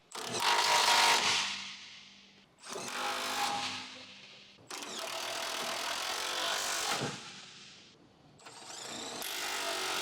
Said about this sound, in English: Using the 18mm deep socket with the electric impact wrench and extension bar, tighten the fuel tank mounting bolts one by one.